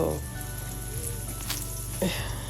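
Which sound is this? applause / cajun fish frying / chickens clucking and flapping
cajun fish frying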